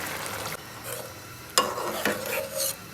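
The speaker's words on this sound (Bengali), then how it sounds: "এখন এর মধ্যে ঝোলের পানি দিয়ে দিচ্ছি।" Water poured into a hot pan of lightly fried potatoes and brinjal for a fish curry: a quiet sizzle and stirring break into two sudden, louder hissing bursts.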